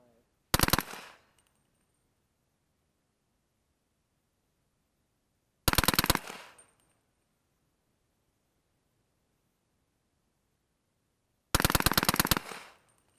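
Three short rapid bursts from an AR-15 bump-firing suppressed subsonic 300 Blackout through a GM45 suppressor with a Slide Fire stock, each a quick string of muffled cracks separated by several seconds of silence, heard nearby outdoors.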